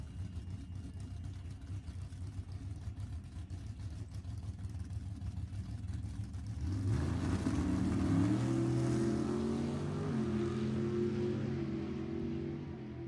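Drag racing cars at Sacramento Raceway during index racing: a distant engine drone that swells midway into a louder rising rev as a car accelerates away, sustained to the end without commentary.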